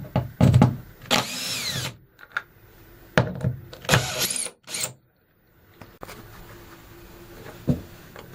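A power drill removes screws from a Lewmar hatch frame in several short, loud bursts with brief pauses and ratcheting mechanical clicks between them, close by.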